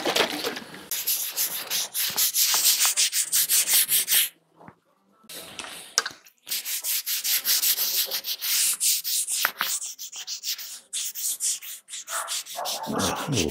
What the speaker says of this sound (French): Encore que je le ponce.